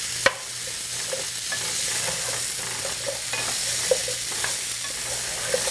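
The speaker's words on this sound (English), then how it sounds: "Gonna mix them until they are cooked" Sweet potatoes cooking in a pot are stirred, a steady sizzle underlying soft scraping strokes and occasional clicks of the utensil against the pot.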